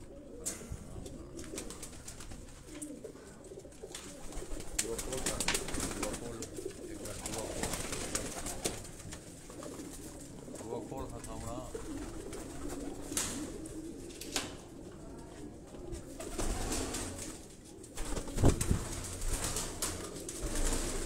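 Flying pigeons cooing inside a loft at a house in Karachi, a dense, continuous murmur of overlapping coos with occasional wing flutters and clatter, fairly close and without talk.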